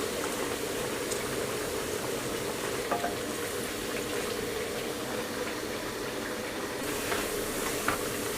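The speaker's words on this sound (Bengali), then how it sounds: "আর এটা কিন্তু অবশ্যই ডুবো তেলে ভাজতে হবে।" Cabbage pakoras deep fry in plenty of oil over medium-high heat, a continuous bubbling hiss that stays even and fairly loud from start to finish, with occasional soft ticks and no voices.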